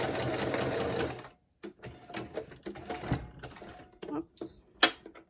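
A sewing machine runs in short straight-stitching bursts through acetate, rapid mechanical chattering that stops and restarts several times, with a few brief clicks between runs.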